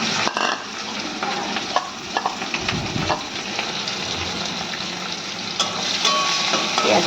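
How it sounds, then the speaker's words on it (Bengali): Onion and green chili with black cumin frying in oil left from fried fish, a steady crackling sizzle with occasional stirring scrapes and small pops, close and fairly loud. "পেঁয়াজটা আমি ভেজে নেব"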